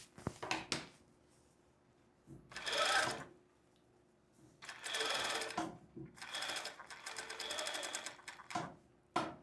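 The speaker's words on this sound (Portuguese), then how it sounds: "A gente vai costurar pegar essa costura e chegar uma em cima da outra." A sewing machine stitches a long casual skirt, running in several separate bursts with short pauses between, moderately close and steady, with no talking over it.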